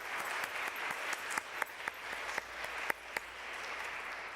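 Round of applause from attendees at a Junior League general membership meeting, a sustained wash of clapping with a few sharper individual claps standing out, fairly distant and even.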